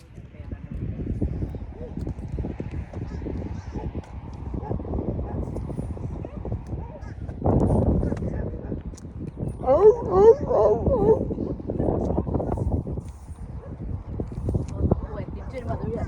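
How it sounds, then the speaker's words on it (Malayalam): Dogs bark outdoors near a neighbourhood garden on a hilltop, with intermittent yips and barks mixed with people talking throughout and some louder bursts midway. "അതുകൊണ്ട് തന്നെ പട്ടികൾ കുരയ്ക്കുന്നു."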